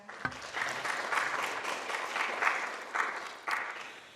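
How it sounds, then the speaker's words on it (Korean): Moderate applause from a crowd at a youth council event, steady clapping that swells in places, with a few louder claps standing out; no speech. "다시 한번 큰 박수 부탁드리겠습니다"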